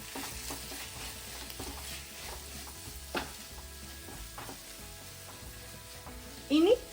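Sugar being stirred into paneer jalfrezi sizzling in a pan, a steady soft fry hiss with light spoon scrapes and a brief louder clatter near the end.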